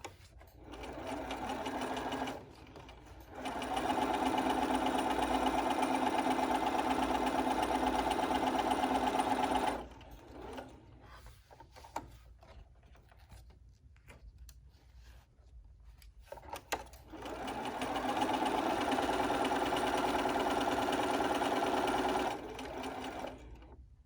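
A sewing machine stitches a fitted face mask in two long, steady runs, loud and close, separated by a quieter pause with faint handling sounds and no talk.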